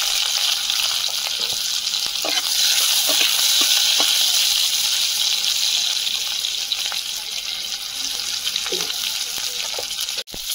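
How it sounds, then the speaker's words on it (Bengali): Dried chili, five-spice seeds and chopped onion fry in hot oil with a loud, continuous sizzle and hiss, broken by occasional stirring clinks close by. "একটা শুকনো লঙ্কা দেবো তেলে, 5 ফোড়ন, পেঁয়াজ কুচি"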